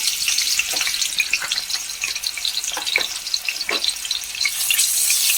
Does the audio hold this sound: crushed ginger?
yes